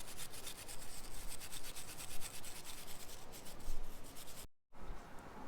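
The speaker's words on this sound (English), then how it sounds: "you sand here and then also sand this insertion right here, because there's deposit over there too" Sandpaper scrubbing deposits off a marine engine thermostat during cleaning, a steady close rasping rub with dense repeated strokes, broken by one brief pause near the end.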